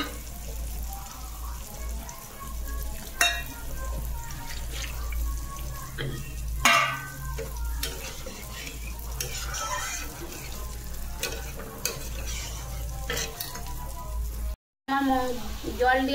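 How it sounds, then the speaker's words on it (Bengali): A spice paste for a fish curry cooked in oil and chili sizzles in a pan after water goes in, with continuous frying hiss, occasional scraping stirs and a brief voice in the background. "জল দেওয়ার পরে মশলাটা ফুটে গেছে"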